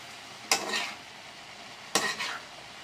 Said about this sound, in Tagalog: Nalanta na yung ating repolyo, kaya kailangan na po natin siyang haluin.